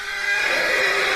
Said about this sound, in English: I haven't heard the horse in a while.